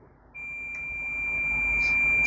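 A digital multimeter's continuity tester emits a steady, high, unbroken electronic beep while checking a window air conditioner's compressor. It starts abruptly after a brief low hum, then holds loud and constant.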